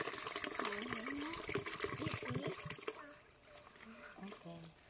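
Water runs steadily from a tap outdoors, a continuous splashing rush that eases slightly partway through, with people talking over it.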